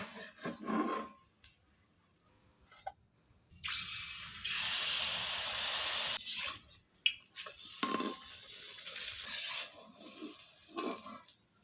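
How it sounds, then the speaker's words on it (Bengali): Palm fruit fritters (taler bora) are dropped into hot oil in a home kitchen, giving a loud, steady sizzling hiss for a few seconds mid-clip. Softer sputters and handling clinks come before and after. "তেল গরম হয়ে গেছে, এবার এক এক করে দিয়ে ভেজে নেব।"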